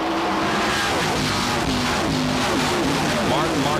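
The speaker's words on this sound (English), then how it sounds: "Big pack of cars behind the first 3." A big pack of stock cars roars past at the 1991 Champion Spark Plug 400 NASCAR race, a dense, continuous engine drone with shifting pitch as cars run close together, loud throughout with commentary over it.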